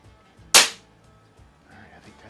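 A single sharp shot from a Baikal IZH-46M air pistol at a 10 m target, one loud crisp crack near the mic followed by quiet room sound.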